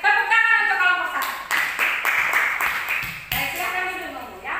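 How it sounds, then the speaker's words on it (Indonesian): Students in a classroom clap for a group of classmates, a short burst of scattered applause between stretches of a teacher talking nearby. "tepuk tangan untuk kelompok 1."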